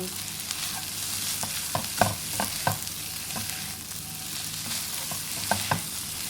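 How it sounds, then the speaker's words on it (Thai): Fried rice with cha-om leaves, stir-fried shrimp paste chili dip, stink beans and shrimp is tossed in a pan, with steady sizzling and repeated sharp spatula scrapes and clinks, close and continuous with no talk. "ใส่ชะอมลงไปนะคะ แล้วก็ผัดให้เข้ากัน"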